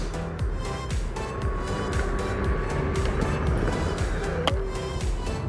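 Weebot Anoki X 2023 electric scooter braking hard from maximum speed outdoors, a rough rolling whir with a rattling texture and a sharp squeak near the end, close and steady.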